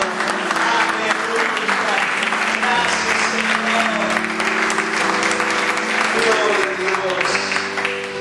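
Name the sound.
congregation applauding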